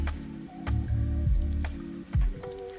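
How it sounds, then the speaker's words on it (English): Vermiculite poured from a cup into an egg box, soft granular rustling and thuddy shifting in short bursts, close and fairly quiet with no talking. "I have this cup of vermiculite and I fill it to the top and I'll just pour it in there"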